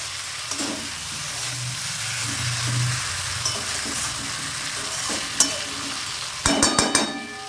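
Chicken and potato curry is stirred in a pan: a low bubbling sizzle with intermittent spoon scrapes, ending in a burst of louder metallic clatter.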